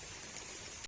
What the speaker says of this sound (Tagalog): Walang tigil yung ulan ngayon.